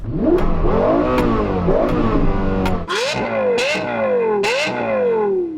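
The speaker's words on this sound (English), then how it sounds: "So that engine and exhaust was actually tuned by Yamaha, their music division" Loud, close engine revs from a Lexus LFA V10, its engine and exhaust tuned by Yamaha, a few rapid throttle blips climbing and dropping in pitch, the last ones crisp and wailing.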